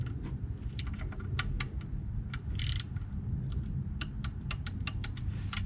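Sharp mechanical clicks from a torque wrench checking bolt torque on an Audi Q3 during transmission service, coming in an irregular series of crisp taps over a steady low background rumble.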